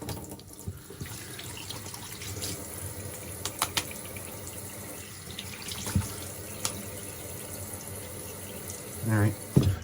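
A bathroom tap runs steadily into a sink while someone wets their face before a shave, with splashing near the end and a voice speaking over the flow.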